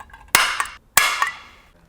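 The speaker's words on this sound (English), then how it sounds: "use the hole punch these two out, drill them out" A hole punch snaps through a car body panel while an oil cooler kit is fitted, two sharp, loud metallic cracks about half a second apart, each ringing briefly before fading, close up with no talking.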